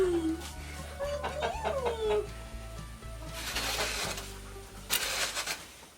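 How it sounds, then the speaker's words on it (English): A black copper Marans rooster crows in a barn with chickens, one drawn-out call followed by softer clucks and noises from the flock, over a steady mechanical hum. "The rooster I have in here is a black copper Moran"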